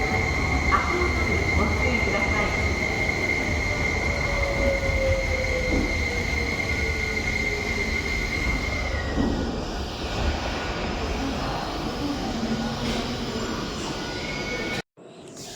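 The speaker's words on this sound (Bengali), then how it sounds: "এই স্পেশিয়া এক্স ট্রেন" Tobu Spacia X luxury train bound for Nikko: a loud, steady rail rumble with a long wheel squeal running through it, close by, before the sound cuts off abruptly at the end.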